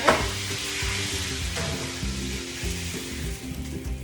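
Food sizzles steadily in a hot pan as it is reheated through, a continuous loud frying hiss with occasional stirring scrapes and no talking.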